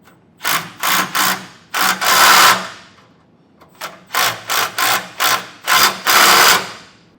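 Flange nuts on a B&W Companion 5th wheel underbed hitch kit are tightened with a wrench. Short, sharp mechanical bursts come up close in two quick series, separated by a brief pause.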